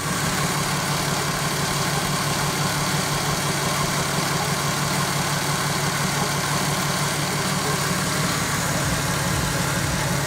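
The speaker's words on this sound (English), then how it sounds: "We've let the engine get warm, we took it outside and let it warm up. Nice idling properly." A warmed-up Toyota Supra engine idles steadily and close by outdoors, a continuous low rumble with a faint mechanical rattle throughout.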